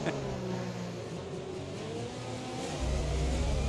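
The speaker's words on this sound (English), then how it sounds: "Great sound effects for the cars." Racing car engines from a racing video game set at the Spanish Grand Prix drone and whine steadily at moderate level, growing louder near the end as the revs build, with no talk over them.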